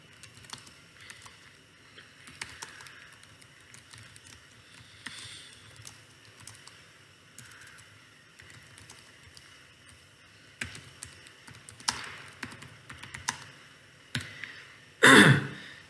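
Light typing on a computer keyboard, soft irregular key clicks in a quiet room with brief pauses, growing busier toward the end and finishing in a louder burst of keystrokes.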